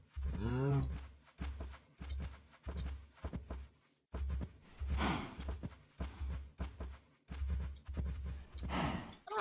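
Cartoonish cows in a farm video game give repeated short low moos and grunts in a choppy rhythm, fairly close, with brief gaps between calls.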